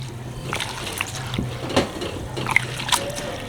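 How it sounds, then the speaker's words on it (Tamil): Rice being washed in water for sweet pongal, soft sloshing and dripping with a few brief splashes and trickles close by, quiet and intermittent. "இந்த அரிசியை இப்போ நாங்கள் வடிவாக கழுவ போகிறோம்."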